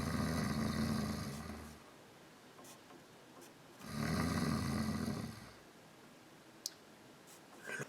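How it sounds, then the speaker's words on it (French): Snoring of a hare in a told story: two long rasping snore breaths a few seconds apart, close and fairly loud, with quiet gaps and a small click between them. "c'était le lièvre qui ronflait"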